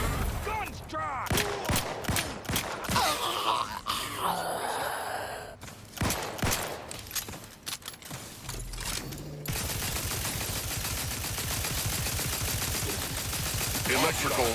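Gunfire in the video game The Outer Worlds 2, sustained dense bursts of shots rolling on through the second half after a stretch of mixed combat noise, gasps and voices, loud and continuous.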